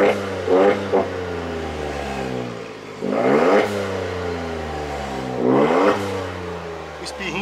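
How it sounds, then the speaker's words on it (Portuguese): A Volkswagen up! TSI with a double exhaust revs hard three times, each burst rising sharply then dropping back to a deep, throaty idle rumble. "Vou mostrar o ronco pra vocês, como é que fica o ronquinho no carro"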